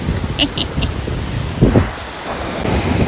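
Heavy wind buffeting the microphone on a Tasmanian roadside, a constant rumbling roar with gusty swells throughout, no voices present.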